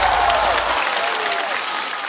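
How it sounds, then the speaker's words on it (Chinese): An audience applauds a comedian at a talk show taping, with loud, dense clapping sustained through the whole span and a brief tonal flourish fading early on. "热烈的掌声送给贾浩"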